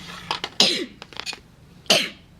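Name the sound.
sneeze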